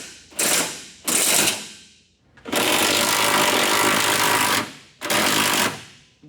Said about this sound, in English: let's rip this funky exhaust off that's leaking like a sieve. So, heck yeah. Anybody seen my sawzall?